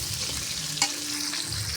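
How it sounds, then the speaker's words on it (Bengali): Potato pieces fry in hot oil in a karahi, a steady, close sizzle that holds evenly for a moment before a brief stir-like clatter at the end. "কড়াইতে আমি আলুটা সুন্দর করে এখন লাল লাল করে ভাজে নেব।"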